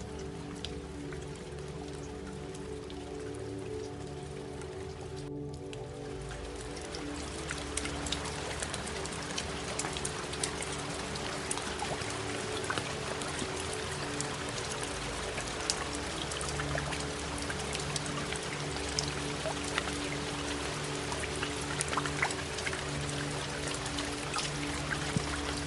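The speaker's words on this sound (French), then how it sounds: "Et la pluie continue à descendre," Steady rain falls continuously on surfaces, a dense, even patter and hiss that holds for the whole stretch, with no voices.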